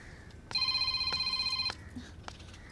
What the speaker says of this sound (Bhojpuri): ए दुल्हन, फोन बाजता, केकर ह?